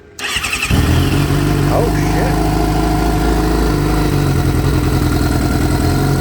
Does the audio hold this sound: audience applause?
no